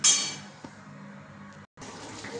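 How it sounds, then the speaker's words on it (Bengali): Water poured into a pan of fish curry gives a brief splash, then a steady, fairly close trickle and hiss that breaks off for a moment before resuming. "এবার আমি জলটা দেবো আন্দাজ মতন"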